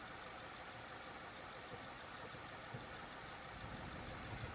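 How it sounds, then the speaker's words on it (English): A BMW 550i with the N63 V8 engine idles steadily, a constant broadband hum and rumble heard up close under the open hood with no talking. "This camera might be picking up all the noise of the engine"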